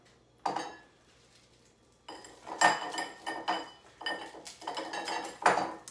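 A chunk of crystal clear ice dropped into a cocktail glass for a tequila smoked old fashioned, giving a sharp clink followed by bursts of knocking, rattling glassware and clattering bar tools, close and fairly loud.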